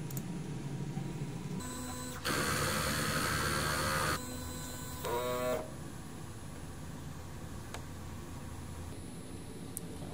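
DTF printer running a printhead cleaning cycle, a low mains-like hum with a louder whirring pump and motor burst lasting a couple of seconds, then a few tonal mechanical sounds before the steady hum returns.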